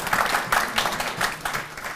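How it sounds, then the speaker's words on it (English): Audience at an awards dinner breaks into steady applause, a dense wash of many hands clapping together, loud and sustained throughout with no pauses. "Now you're going to applaud again."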